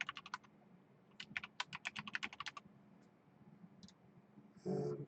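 Fast bursts of clicks from someone typing a password on a computer keyboard, two quick runs of keystrokes close to the mic, then a short pause and a brief thud at the end.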